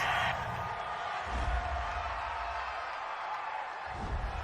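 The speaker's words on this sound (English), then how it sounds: "this crowd does not like that call" A football stadium crowd at a Dallas Cowboys versus New York Jets game reacts against a penalty call, a sustained roar of booing and shouting that swells and fades, distant and broad, with commentary speech over it.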